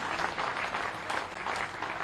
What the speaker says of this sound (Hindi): उनका भी ताली बजा के स्वागत कीजिए।